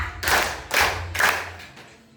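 Students in a classroom clapping game clap in unison, three distinct group claps about half a second apart, fairly close and sharp, then silence.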